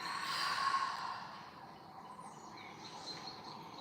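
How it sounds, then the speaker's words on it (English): A slow, audible breath out during a yoga breathing exercise, a soft, close airy exhale that fades over a couple of seconds into quiet room tone. "an audible breath out"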